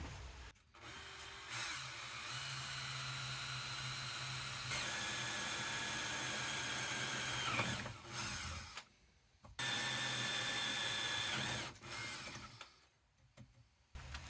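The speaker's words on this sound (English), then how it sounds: "Let's get them drilled." A hand-held drill bores holes in metal for an air rifle target, whirring in long sustained bursts broken by short pauses, close and steady, with no talking.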